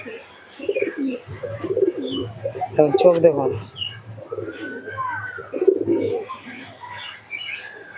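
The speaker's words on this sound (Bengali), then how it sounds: "চলো এই কবুতরটা একটু ডানা দেখাই।" Teddy pigeons coo in low, throaty bursts up close, with a few faint chirps. Someone talks over them, and brief handling noises are heard.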